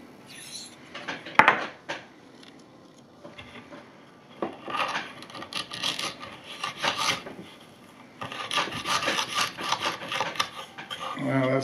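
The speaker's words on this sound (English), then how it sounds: "I pretty much finish all my knives on a fine Norton stone now." A knife blade scraped across a fine Norton sharpening stone in repeated rasping strokes, close and moderately loud, coming in bursts with short pauses between them.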